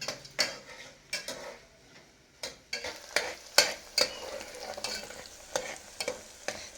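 Mutton curry ingredients with tomato are stirred and roasted in a pan, a spoon scraping and clinking against the metal in irregular bursts over a faint sizzle, close by with no talking.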